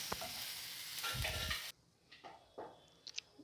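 Onions frying for poori masala, a loud sizzle with stirring scrapes in a pan, cut off abruptly as water is poured in, leaving quieter bubbling and a few soft clinks.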